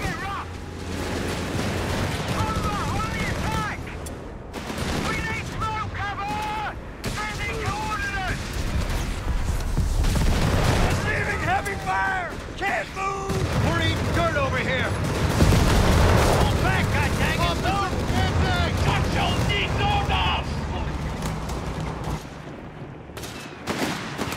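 Company of Heroes 3 Italian campaign battle with rifle and machine gun fire, repeated shots and explosions near and far, under shouted soldier voices throughout.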